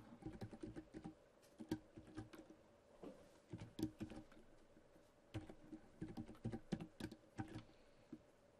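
Someone types HTML on a computer keyboard, a quiet, close stream of irregular key clicks and taps in short bursts with brief pauses, and no talking.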